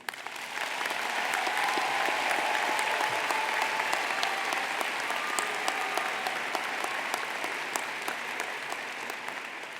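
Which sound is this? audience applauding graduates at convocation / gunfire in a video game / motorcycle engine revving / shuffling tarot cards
audience applauding graduates at convocation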